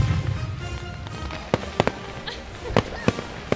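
A giant Fourth of July fireworks salute at a Main Street Independence Day celebration in Seward, with several sharp, separate bangs and crackles at irregular intervals over a steady murmur of crowd noise.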